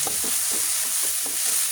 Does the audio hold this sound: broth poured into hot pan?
yes